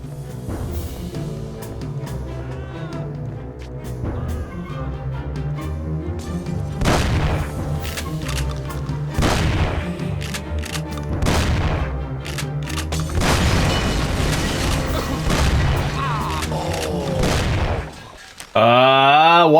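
Molotov cocktail fire and explosions in the Mafia video game: repeated heavy booms and gunfire bursts over a steady music bed, loud and close, ending in a sudden sharp burst.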